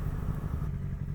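A motorcycle engine runs at a low idle close by, a steady throbbing rumble with some light clatter, continuing without change.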